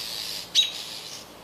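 A small bird calls near a window, with a sharp, loud chirp standing out against a faint background of other high bird twittering.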